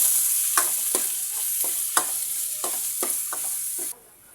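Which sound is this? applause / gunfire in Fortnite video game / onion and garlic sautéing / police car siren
onion and garlic sautéing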